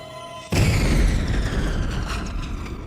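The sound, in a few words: bomb explosion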